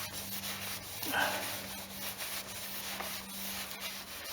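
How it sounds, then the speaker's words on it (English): A Celica exhaust gets buffed with Auto Finesse Mercury metal polish, giving a quiet, steady rubbing and scuffing at close range, with faint background hum. "Needs a little bit more buffing on there, I think."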